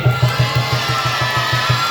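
A crowd of students, teachers and parents at an Islamic school welcome event cheers and shouts loudly, with a rhythmic, pulsing beat running steadily under the noise.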